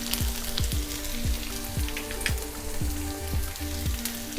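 Omelette cubes fry with turmeric and ginger-garlic paste in hot oil, a bright crackling sizzle with repeated sharp clinks of a utensil against the pan at a steady beat, close and fairly loud.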